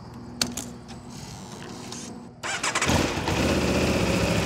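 An Italian V4 motorcycle engine cranks briefly after a quiet moment with a small knock, then fires and settles into a loud, steady idle close by.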